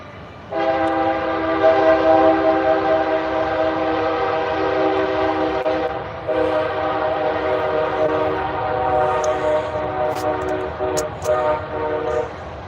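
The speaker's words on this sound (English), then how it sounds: "There's a train coming and I can't hear." A passing train sounds a long, loud, sustained horn that holds for about twelve seconds with a brief dip midway, over a low rumble and a few clicks near the end.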